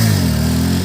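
A motorcycle engine revs hard and steady during a wheelie stunt, a loud, close, sustained roar that holds its pitch and tails off slightly at the end.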